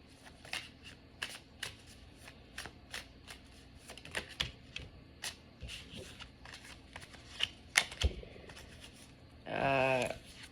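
Tarot cards being shuffled close by in quiet room, a long run of crisp riffling clicks and snaps in irregular bursts, ending with a brief cascading riffle.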